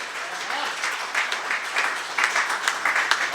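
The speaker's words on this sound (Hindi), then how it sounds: "ऐसे ही तालियां बजाते रहिए" Audience clapping at a Hindi poetry recital (kavi sammelan), a sustained ripple of applause from a crowd that swells slightly toward the end.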